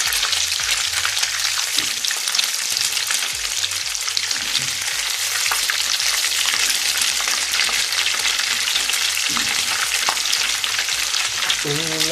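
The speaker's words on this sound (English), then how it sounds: "Turn our meat and see what's popping on the other side." Cumin-seasoned Vienna steak sizzles in a frying pan with a dense, steady crackle and popping of hot fat that runs loud and continuous, with no voices.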